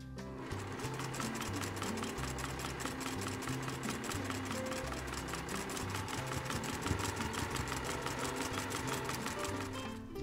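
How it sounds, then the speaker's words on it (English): A sewing machine stitches a quarter-inch seam on a charm pack placemat, a steady fast mechanical whir with even rhythmic clicking, continuous and moderately quiet. "Along both sides, 1/4 inch from each side. Okay, so we're going to sew again."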